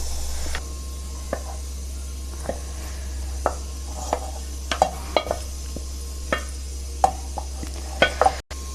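Radish leaves stirred in a pan, with a series of soft, irregular scraping and tapping stirs over a low steady hum, fairly quiet and close, with no talking.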